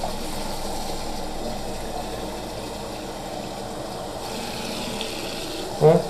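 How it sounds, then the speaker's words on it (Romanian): Running water rinsing a BMC air filter from a Kawasaki ER6N motorcycle, a steady, soft faucet stream flowing continuously with a brief louder splash near the end. "Clătiți-l foarte bine cu apă."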